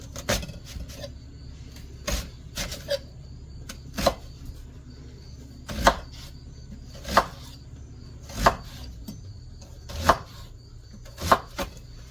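A knife chops a massive onion on a board in sharp, separate strokes, about a dozen over a few seconds with irregular spacing, close and fairly loud, with faint board knocks between cuts and no talking.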